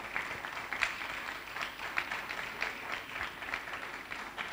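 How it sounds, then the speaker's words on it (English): Audience applause at a university technology week event, moderate steady clapping from a crowd with a few sharper claps standing out, no talking over it. "So shall we welcome him with a round of applause?"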